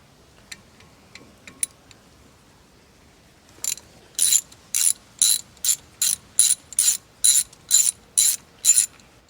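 A ratchet loosens the T40 brake caliper bolts on a Renault Twingo RS 133. A few scattered clicks come first, then about ten loud, close bursts of rapid ratcheting in an even rhythm.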